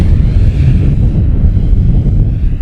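Gusting crosswind buffeting a microphone at an RC flying field, a loud low rumbling roar that surges and churns continuously for a few seconds with no speech.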